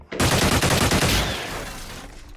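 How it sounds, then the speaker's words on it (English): Rapid burst of gunfire from soldiers in the Xenonauts video game: a loud, dense string of about a dozen close shots over one second, then a fading echoing tail. "Please fire through to here."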